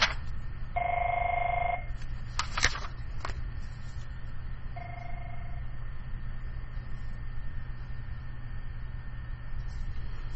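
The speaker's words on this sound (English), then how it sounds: "Don't worry about that phone ringing." A telephone rings in a short trilling burst, then comes some clatter and a fainter second ring, all over a steady low background hum.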